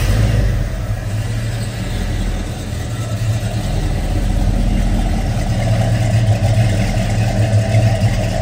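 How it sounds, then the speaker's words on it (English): A 1970 Chevrolet Chevelle SS with a four-barrel carburetor idles close by, a loud, steady low rumble with slight uneven pulsing throughout. "Car starts up very easily,"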